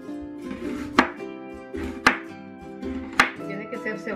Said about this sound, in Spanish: Ahora lo que voy a hacer es cortar la cebolla.